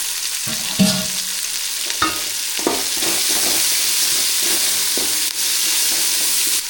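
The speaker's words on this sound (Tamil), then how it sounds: "வெங்காயம் சேர்த்துக்கலாம் வெங்காயம் வதங்கிறதுக்கு கொஞ்சம் உப்பு சேர்த்துக்கலாம்" Onions sautéing with salt in a pan give a steady loud sizzle, with a few clanks and scrapes of stirring near the start and then an even hiss, and nobody speaking.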